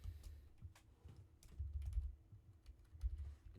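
Quiet typing on a computer keyboard, scattered soft key clicks in uneven runs with short pauses, close by and with no talking.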